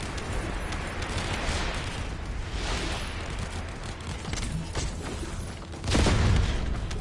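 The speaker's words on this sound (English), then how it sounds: "Fireworks are awesome." Fireworks going off in The First Descendant video game, with dense crackling bursts and a heavy boom near the end over a constant layered game background, no voices.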